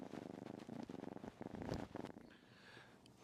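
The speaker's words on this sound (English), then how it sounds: "You probably can hear him purring." A cat purrs close up in a steady, rhythmic rumble, pulsing with each breath, then fades to quieter breathy sounds.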